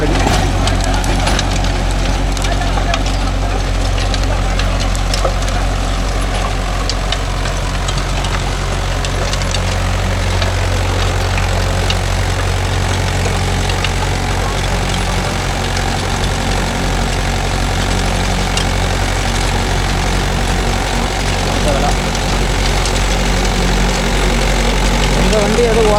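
Mahindra 415 DI tractor running a 36-blade Gomathi rotavator in a field: a steady, loud, low diesel drone with constant churning and rumbling throughout, and a voice speaking over it.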